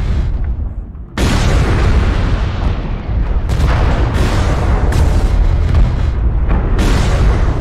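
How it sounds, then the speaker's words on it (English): Heavy missile explosions thunder almost nonstop in MechWarrior Online battle, loud booming blasts overlapping into a dense rumbling barrage after a brief quieter start. "Warning, incoming missile."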